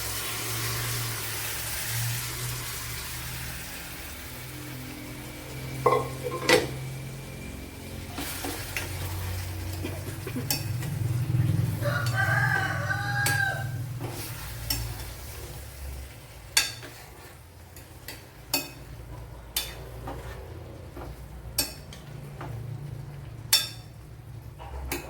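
Squid fries in a pan for a spiced squid stir-fry, steady sizzling under a low rumble, with spatula stirs and sharp knocks against the pan growing more frequent toward the end, close and moderately loud.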